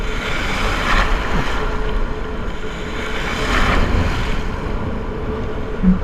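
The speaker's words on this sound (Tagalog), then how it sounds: "Ano kasi yung hangin ngayon ah." Strong wind roars over the open sea around a small fishing boat off Batiawan, Taft, Eastern Samar, a loud steady rush with swelling gusts and waves and no voices.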